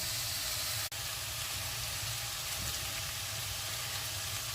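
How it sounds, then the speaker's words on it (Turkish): Onion, garlic and carrot sautéing in olive oil in a pan for a vegetable soup, giving a steady close sizzle and hiss throughout, with one sharp click near the start. "İlk olarak tavamıza soğan, sarımsak ve havucu zeytinyağında sotelemeye başladık."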